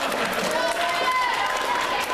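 A school audience at a middle school show applauds, a dense steady wash of clapping with scattered voices and whoops carried throughout.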